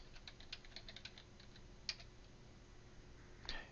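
Quiet, close keystrokes on a computer keyboard type out a short name, a quick burst of clicks followed by a few spaced taps and a final firmer key press.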